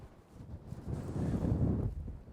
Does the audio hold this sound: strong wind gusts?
yes